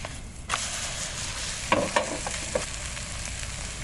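An omelette sizzles softly in a pan over low heat, a gentle continuous crackle with a few brief scraping or stirring touches close by, no talking.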